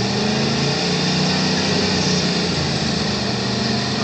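A mid-model Chevy engine roars at high revs during a burnout with its tires spinning, a dense, continuous, very loud drone heard close, with no voices.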